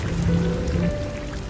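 Steady rain falling, heard close and even for the whole short stretch, with a faint tonal sound sitting underneath.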